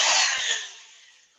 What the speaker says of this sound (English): I use my my drill sander.